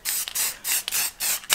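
Dark spray paint misted over a dented car body panel as a guide coat, four short hissing bursts from a close aerosol can with brief gaps between, no talking.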